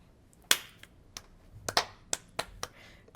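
Hands smack together in a high five and in claps during a podcast recording, making about seven sharp, crisp slaps that are spaced irregularly and stand out against a quiet room.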